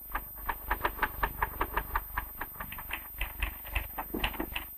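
A manual typewriter from the early 1970s clatters in a steady run of about twenty-five sharp keystrokes, rapid and evenly paced, close and clear with no voices.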